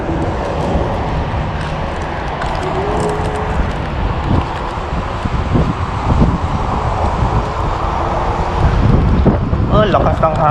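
Strong wind buffets a rider on the road, a continuous loud rushing roar with low rumble that swells slightly toward the end, no clear talk over it.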